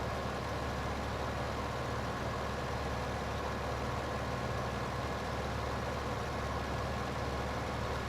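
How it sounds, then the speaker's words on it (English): A tractor engine in Farming Simulator 15 labours uphill, pulling a trailer, as a constant loud low drone that holds steady without changes, with no talk over it. "you can really see the strain on the tractor pulling it up the hill."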